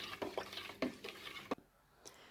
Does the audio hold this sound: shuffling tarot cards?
no